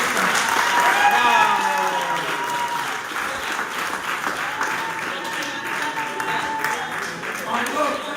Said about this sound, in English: I wanted everyone to give us a round of applause because we've been through a lot.